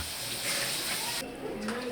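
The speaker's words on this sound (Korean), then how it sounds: "수도꼭지 대신 설치된 오래된 펌프" Water from an old hand pump in Dhaka, Bangladesh hisses steadily, then the flow shifts partway through to a lower, gurgling tone, close by and fairly loud.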